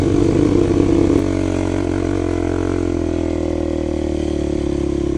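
A Suzuki LT-Z400 ATV with a 400cc engine runs on sand dunes, its loud buzzing engine note revving briefly and then settling into a steady, close drone with no talking.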